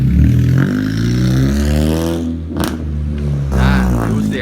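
A Honda Jazz driven by a learner accelerates, its engine note rising and falling loudly as the car pulls away. Voices talk over it inside the cabin.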